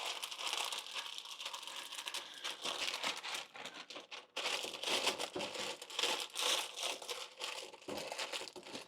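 Parchment paper crinkles and crackles loudly and close up as it is spread and pressed into a baking pan, in continuous bursts with a brief pause midway and no talking.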